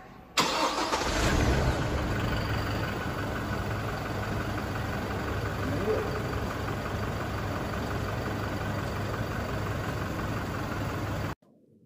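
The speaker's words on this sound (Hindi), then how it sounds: "अब गाड़ी को स्टार्ट करके उसकी नॉइस चेक कर लेते हैं" A 2021 Toyota Fortuner 4x2 manual diesel cranks over and fires, then settles into a steady, close diesel idle that drones on evenly for about eleven seconds before stopping abruptly, with no talking.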